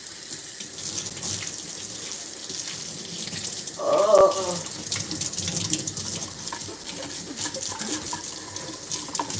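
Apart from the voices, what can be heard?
water running from a sink faucet while washing dishes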